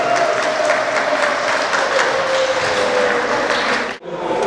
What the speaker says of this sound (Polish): Brawa dla nich.